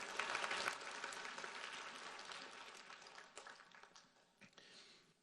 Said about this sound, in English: Sure, clap away.